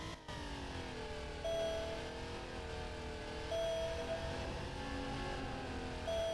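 Porsche 993 Turbo, the last air-cooled Porsche Turbo, in the racing game Need for Speed Porsche Unleashed: a steady, loud engine drone that rises in pitch in a few accelerating sweeps with small shifts, heard alone.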